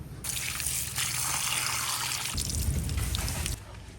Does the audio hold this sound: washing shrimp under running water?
yes